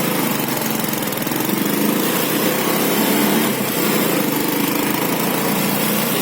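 A motorcycle ridden along the highway from Ambulong toward Banyadero, its engine a steady, loud, high-pitched drone with broadband wind rush throughout and no talking.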